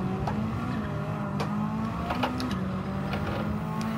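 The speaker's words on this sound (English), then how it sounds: "On the brakes now, into these corners, you can really just get the car rotated on the brakes." WTC700 race car in a racing video game braking hard into corners, its engine tone steady and dropping as it slows, with faint tire squeal flickers over a continuous loud drone.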